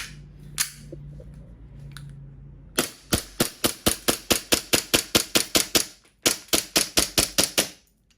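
A WE Glock 19 Gen5 airsoft pistol fires a long run of rapid, sharp shots in quick succession, with a short pause before a second burst, loud and close.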